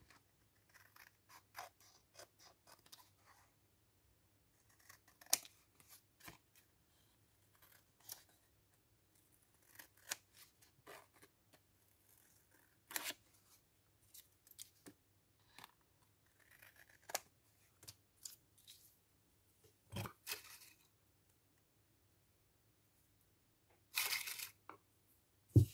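Scissors snipping around a paper tag for a vintage-style junk journal, close and quiet, with a steady series of short crisp cuts and small mechanical creaks in an otherwise silent room.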